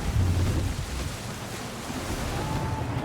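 Gusty wind at sea while sailing a ship in the video game Assassin's Creed III, a loud continuous rushing roar mixed with surf and wave wash, steady throughout.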